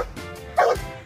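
A dog gives a single sharp, loud bark up close, with a brief yip-like edge, in an otherwise quiet moment.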